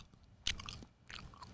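A person imitates gum-chewing noises with the mouth, giving a few close, soft smacking and crunchy clicks in two short bursts.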